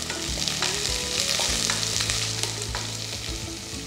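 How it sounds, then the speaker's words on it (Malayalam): Ginger, garlic and green chillies sizzle in hot oil in a pan, a steady close crackle broken by stirring scrapes and clinks, with no talking. "ഇതെല്ലാം കൂടെ ഒന്ന് വഴറ്റിയെടുക്കാം."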